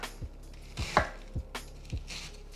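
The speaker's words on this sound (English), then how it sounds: "Then from there, I'm gonna cut it into strips." A knife cuts cabbage quarters into strips on a cutting board. Five separate close thuds land at an uneven, unhurried pace.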